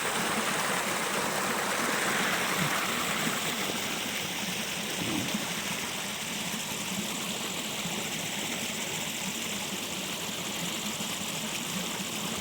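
Rainwater rushing through a farm field flooded after two hours of heavy May rain, a constant broad, hissing stream of flowing water with no voices.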